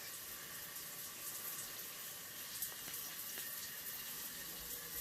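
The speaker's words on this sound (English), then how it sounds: "If I turn this nozzle, that'll change it to the overhead shower" Overhead shower in a hotel bathroom in Pyeongchang, South Korea, running as a steady, fairly loud hiss of spraying water throughout, with no voices over it.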